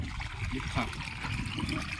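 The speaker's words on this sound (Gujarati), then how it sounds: "આવી ગયું પાણી અહીંયા" Water trickles and gurgles out of a newly fitted pipeline, a soft, continuous running flow close by with no talking.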